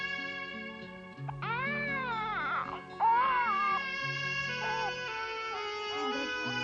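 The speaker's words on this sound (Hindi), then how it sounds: "सावी का बच्चा रो रहा है ना?" A baby cries in a home drama scene, wavering wails rising and falling over a steady sustained music bed, fairly close and continuous throughout.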